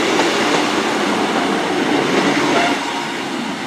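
A British Rail Class 153 diesel railcar rolls through Exeter St David's station, a loud, close, steady rumble of engine and wheels that tapers slightly near the end, with no voices.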